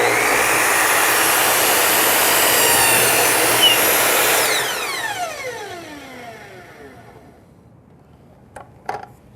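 A power saw cuts a short piece of crown molding trim laid flat, a loud close whine that runs steadily, then spins down with a falling pitch, followed by a few light clicks.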